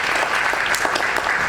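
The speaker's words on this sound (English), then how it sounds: "Round of applause for him." Continuous audience applause fills a hall at a World Soil Day opening ceremony, dense, even clapping from many hands with no talk over it.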